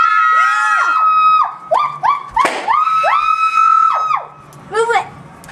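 A family screams happily together, several voices letting out rising and falling 'woo' whoops, loud and close, with short thumps and pauses between bursts.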